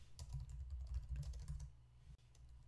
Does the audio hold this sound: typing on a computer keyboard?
yes